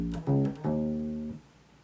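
A bass guitar plays the second half of a song's measure, a quick short note followed by a longer held note that fades out, close and solo with no voices.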